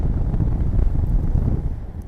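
Gusty west wind buffets a microphone during a paragliding flight over the Pointe de Bilfot coast, a loud, continuous low rumble that swells and dips with the gusts.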